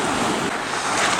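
Sea surf washing onto a sand and shingle beach at Kessingland, Suffolk, a steady broadband wash with wind buffeting the microphone, continuous and fairly loud throughout.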